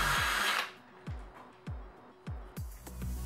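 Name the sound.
drill cleaning out a hole in a Weber kettle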